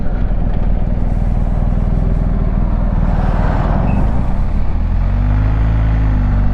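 A BMW R1250 GS motorcycle slowing and pulling over, its engine a loud, close, continuous rumble that eases in pitch toward the end, with no voices.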